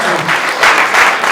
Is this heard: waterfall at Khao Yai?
no